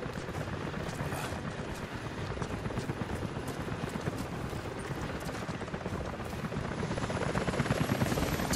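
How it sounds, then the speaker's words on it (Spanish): Helicopters approach in the video game Rise of the Tomb Raider, their rapid rotor chop thudding steadily and growing slightly louder toward the end, with no voices over it. "hay helicópteros dirigiéndose hacia ti."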